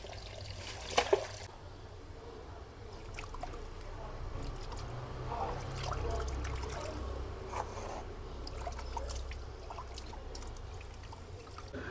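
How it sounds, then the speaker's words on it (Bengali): Water pours and splashes as small fish are rinsed, a couple of sharp knocks near the start, then a steady running wash through the rest, with faint speech-like murmur in the background. "এই ছোট্টটাই মাছ ধোবো"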